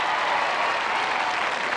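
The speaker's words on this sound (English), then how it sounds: "A round of applause for the 14s" Dense, steady applause from a large crowd at a televised 1987 royal knockout tournament, loud and continuous with no talk over it.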